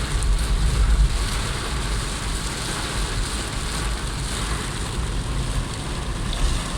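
Heavy rain pours steadily on a moving car on the road from Faisalabad to Chishtian in Punjab, a loud, dense wash of noise with engine rumble underneath and no break throughout.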